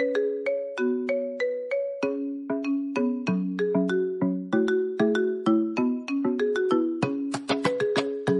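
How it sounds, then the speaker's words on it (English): Loud, clear phone ringtone of bright, bell-like notes stepping through a catchy repeating melody, with no other sound around it. "What's your ringtone?"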